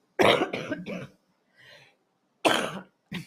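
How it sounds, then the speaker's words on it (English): A few harsh, loud coughs in quick succession, a short pause with a faint rasp, then two more coughs close to the listener. "I have a horrible cough"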